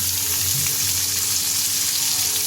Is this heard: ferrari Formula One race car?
no